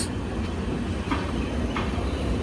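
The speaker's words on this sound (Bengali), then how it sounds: "সাঁতরাগাছি স্টেশনের 1 নম্বর প্ল্যাটফর্মে ঢুকছে জ্ঞানেশ্বরী এক্সপ্রেস" The Gyaneshwari Express rumbles low and steady into platform 1 at Santragachi station, with faint rhythmic wheel clicks and a brief sharp noise at the end.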